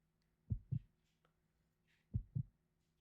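A heartbeat in the Resident Evil Code Veronica video game: two deep double thumps about one and a half seconds apart, low and muffled, alone over a faint steady hum.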